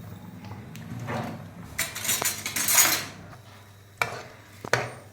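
A spoon scrapes and clinks against a pan while tomato tamarind chutney mixture with salt is stirred, intermittent metallic taps and scraping, close and moderately quiet.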